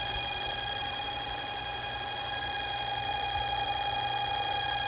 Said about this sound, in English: Okay, the system is now on alarm.